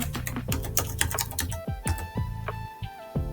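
An email being typed into a Notepad document on a computer keyboard: a quick, uneven run of close key clicks, with a few heavier strokes, heard alone with no talking.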